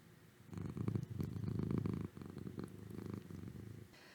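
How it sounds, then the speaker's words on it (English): A cat purring close up, a low rhythmic rumble in steady in-and-out pulses lasting several seconds with a brief break midway. "You're purring."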